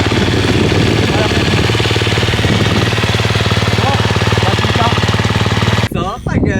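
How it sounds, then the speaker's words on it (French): A motorcycle engine idles right after starting, with a loud, close, steady pulsing chug that runs evenly for several seconds before cutting off abruptly near the end into a brief voice-like sound. "Et la moto tourne parfaitement."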